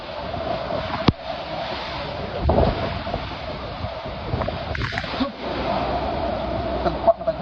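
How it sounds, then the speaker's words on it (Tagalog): Strong night wind gusts across an open outdoor spot, a steady roaring rush with buffeting bursts on the microphone and a few sharp knocks. "Tagpak na tayo ng hangin, oh."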